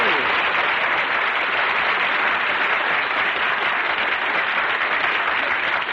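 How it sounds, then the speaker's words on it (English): A street crowd in a vintage radio comedy show applauds in a dense, continuous roar of clapping that holds at an even, loud level for several seconds. "everybody on the street is applauding"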